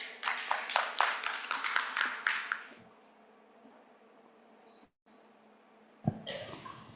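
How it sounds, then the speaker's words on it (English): A conference audience at IICMA 2025 gives a keynote speaker a burst of dense applause lasting nearly three seconds, then it cuts off into quiet room tone. A brief rustle or shuffle follows near the end. "Give applause to Dr."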